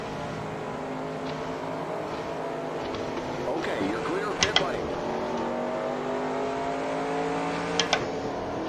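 Race car engines droning on track in the NR2003 racing game during a 1989 Daytona 500 pit stop, a steady engine tone with shifting pitch as other cars pass, plus a couple of brief sharp clicks.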